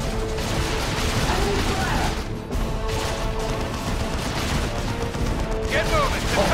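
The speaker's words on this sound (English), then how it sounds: "Enemy guard are shooting on our position! I have come under fire!" Battle in the Dawn of War II Retribution strategy game, with dense overlapping gunfire and crashing combat noise forming a continuous loud din, while unit voices call out over it.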